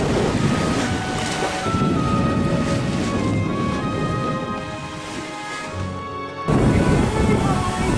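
A sailboat moving over ocean waves in a steady wind, giving a continuous rush of water and wind buffeting on the microphone, with one sudden louder surge near the end.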